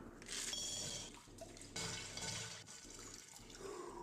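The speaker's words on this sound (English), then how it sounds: "dunks his face in water" Water splashes and sloshes as a man dunks his face into a basin or lake, giving several close, bright splashing bursts with brief pauses between them and no talk.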